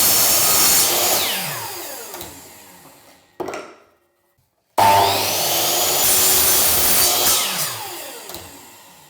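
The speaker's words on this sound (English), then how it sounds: "Cut those on the miter saw." A miter saw cuts architrave trim in a 1920s house renovation, its motor whining loudly through one cut, spinning down into a brief silence, then roaring back for a second cut that fades as the blade slows.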